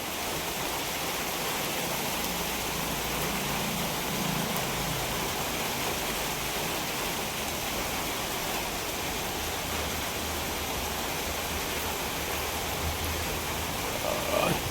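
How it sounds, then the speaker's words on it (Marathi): Heavy rain pours down during a storm at a village, a dense, steady roar of water that stays close and loud for the whole stretch, with no voices. "आता पाऊस आला आहे"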